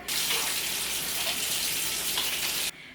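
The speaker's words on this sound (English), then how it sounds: "One thing that's really important to remember right now is to be washing your hands before we cook" A tap runs steadily while hands are washed before cooking, a loud, close, continuous rush of water that stops abruptly near the end.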